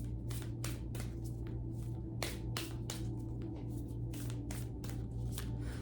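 Close, quiet shuffling of tarot cards during a reading, with rapid papery riffling bursts repeating irregularly over a steady low hum, and no talking.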